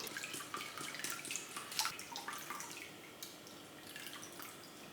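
Water is poured into a bowl of blended condiments being strained for a fish broth, making a faint, close trickle with small drips and splashes, quiet and steady without talking.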